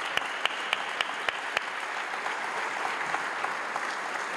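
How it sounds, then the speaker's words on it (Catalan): Steady applause from a crowd at a neighbourhood street festival's opening speech in Gurb, with a few sharper claps near the start. The sound is even and moderately loud, with no voices over it. "un fort aplaudiment per ells"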